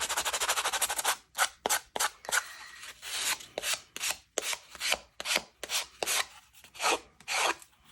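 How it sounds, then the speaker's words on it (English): Rapid rasping strokes of sandpaper rub against the edge of a paper tag, first a continuous buzz, then a rhythmic series of about a dozen scratchy passes, close and fairly loud. "Got a little aggressive with my sanding"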